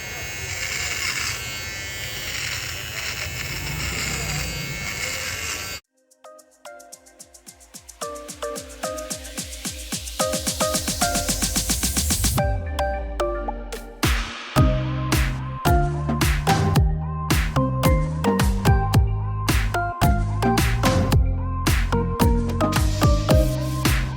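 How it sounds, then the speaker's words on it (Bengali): A Xiaomi 2C beard trimmer buzzes loudly and steadily as it trims a beard, with the motor tone shifting and sputtering as it passes through the hair, broken by a brief pause and near-constant close-up cutting. "এই ট্রিমারটি আমি লাইভ ইউজ করে দেখবার পারফরমেন্স কীরকম"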